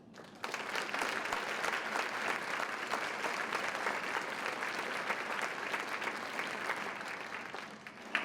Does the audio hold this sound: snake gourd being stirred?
no